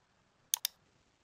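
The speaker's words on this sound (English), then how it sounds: "I'm going to left click on here" Two quick, sharp computer mouse left clicks in close succession, crisp and near, with nothing else around them.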